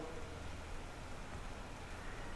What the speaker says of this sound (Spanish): Se ha venido un poquito de lluvia, no sé si se alcanzan a escuchar.